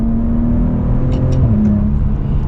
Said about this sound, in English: we're gonna get another acceleration here